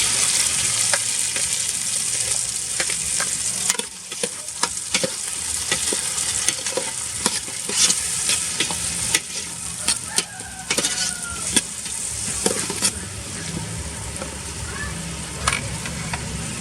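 Chopped tomatoes sautéing in a pan for Filipino ginisang monggo, a steady close sizzle and hiss with repeated scraping stirs of a utensil throughout, a few brief clinks standing out.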